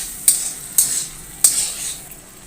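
Finely chopped tomato frying lightly in a pan for dhaba-style chana dal, with a soft sizzle and three sharp stirring scrapes spaced through it.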